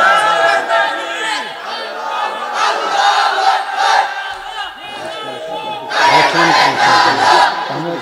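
A large gathering at a Bangla Islamic sermon answers with loud, repeated takbir shouts, surging crowd voices that rise and fall in waves before swelling again near the end.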